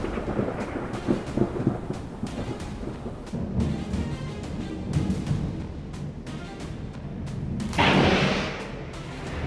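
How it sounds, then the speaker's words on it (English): Thunder from a lightning strike over Missouri rumbles low and heavy with repeated sharp cracks, and a louder, brighter crash breaks near the end under steady rain. "A sudden lightning bolt tore open the sky above Missouri"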